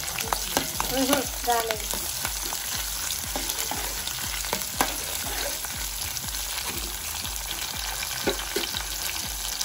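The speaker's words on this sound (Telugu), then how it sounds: "ఆయిల్ వేడెక్కిందండి. ఉల్లిగడ్డలు, పచ్చిమిరపకాయలు వేసుకుందాం." Onions and green chillies frying in hot oil in a pan for a flat bean and tomato curry, a steady close sizzle with crackling pops and occasional stirring clinks throughout.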